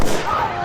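A single sharp gunshot bang rings out, brief and loud, followed by a short fading echo.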